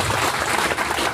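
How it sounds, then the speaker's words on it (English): Audience at a food and restaurant technology event gives a big round of applause, a loud, dense burst of clapping that stays steady and close with no speech over it. "Let's give him a big round of applause."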